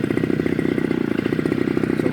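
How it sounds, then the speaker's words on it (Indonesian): Small engine of a mini tiller (cultivator) loosening soil, running steadily at close range with a fast, even chugging throb and rattling clatter throughout, no voices. "Sekarang tidak susah lagi mencangkul, saudara-saudara. Kita menggunakan mesin."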